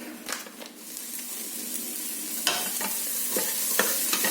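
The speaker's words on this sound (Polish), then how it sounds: "wszystko się jeszcze razem dusi" Onion and spices stew in a pan for vegetable lecho with a dense, steady sizzle and hiss, close up, broken by a few louder crackles and stirring clinks, with no voices.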